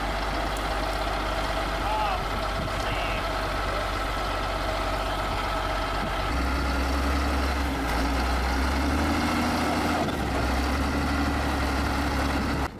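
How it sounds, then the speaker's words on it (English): A bulldozer hauls a tractor truck by cable, producing a continuous heavy diesel engine drone with low idling rumble. The engine shifts to a deeper, louder pull midway. Steady, near and loud throughout. "the bulldozer will use the cable to pull the tractor truck to move."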